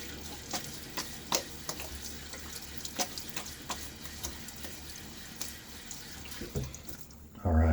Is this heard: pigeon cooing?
no